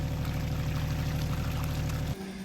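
Water rushes steadily through a swimming pool pipe being flushed out during construction work, a loud continuous flow that stops abruptly near the end.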